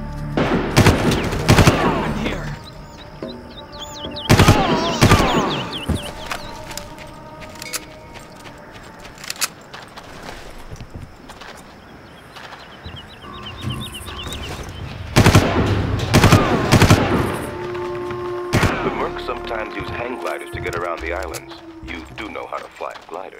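Gunfire in the video game Far Cry on a pier level comes in sharp bursts and rattling volleys between quieter stretches, mixed with game music, effects and voices talking.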